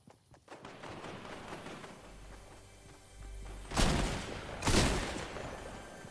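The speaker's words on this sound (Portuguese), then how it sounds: "tem alguém atirando" Gunfire in the Fortnite battle royale video game: two loud, sharp bursts of shots close together near the end, after a stretch of lower background game noise and scattered thumps.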